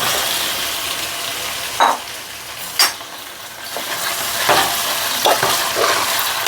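Boiled taro pieces, home-grown, frying in oil with browned onions, a steady close sizzle with several sharp clattering stirs of a spoon in the pan.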